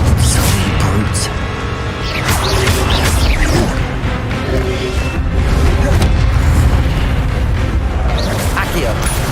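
Spell impacts in the Hogwarts Legacy video game land as dense, loud booms and crashes over a constant roaring battle din, with voices shouting among the blasts.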